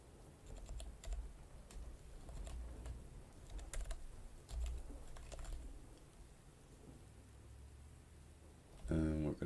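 Rapid, uneven keystrokes on a computer keyboard during a programming session, clicking close and steady for several seconds, with a short burst of speech at the end.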